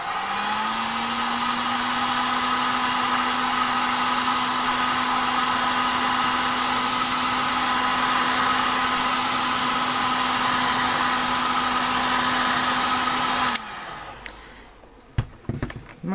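A heat gun warming a sheet of Worbla runs as a steady, loud whooshing blow with a faint hum, holding for about thirteen seconds before cutting off abruptly, followed by a few quiet clicks and handling knocks.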